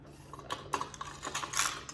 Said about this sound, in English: you're gonna get keys like, this is my house key right here, but you're gonna get keys like this